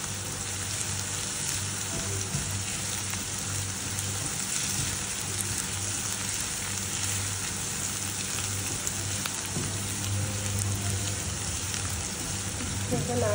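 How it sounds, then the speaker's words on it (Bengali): Dried fish (shutki) frying with onions in a pan, a steady dense sizzle and crackle running continuously at moderate level, with faint occasional stirring. "দিয়ে পেঁয়াজ সহ একসাথে কিছুক্ষণ ভেজে নেব"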